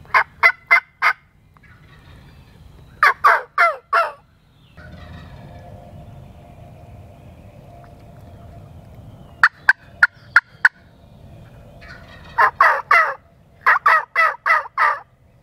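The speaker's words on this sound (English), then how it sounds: "Yeah, I see several turkeys." Wild turkeys gobble loudly in repeated rapid bursts outdoors in Mississippi woods during a hunt, with quiet rustling and low murmuring between the calls.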